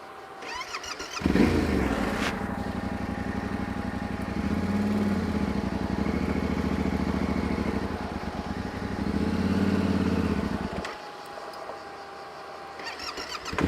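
A Yamaha Tenere 700 adventure motorcycle idles and labours on a steep rocky slope, the engine note rising and falling in two swells before cutting out abruptly, leaving quieter background.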